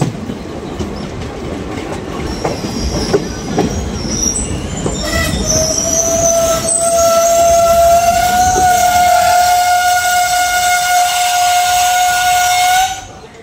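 The Sifhung Express pulls in at Bongaigaon station, with rumbling wheels and clattering rail joints building up before long, steady squealing brakes whine loudly for several seconds and then cut off as the train stops.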